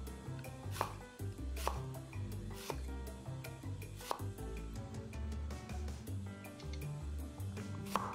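A kitchen knife chops vegetables into thin 2 mm slices on a cutting board, giving quick, fairly regular taps over soft background music, with no talking.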